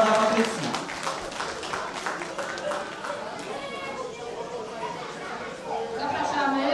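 Crowd at a charity shooting tournament applauding the first-place winner, dense clapping that carries on for several seconds and mixes with chatter and voices nearby.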